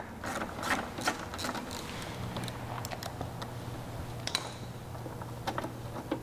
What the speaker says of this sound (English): So I'm using a 10mm socket here, and I'll get that one almost all the way off.